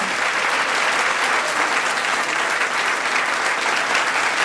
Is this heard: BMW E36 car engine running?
no